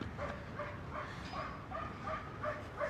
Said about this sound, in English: As the dogs bark